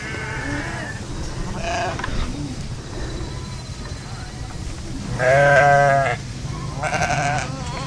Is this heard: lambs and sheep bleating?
yes